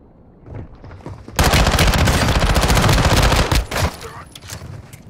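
Rapid bursts of automatic gunfire erupt in a shooting video game, loud and sustained for a couple of seconds before tapering off, with faint voices nearby.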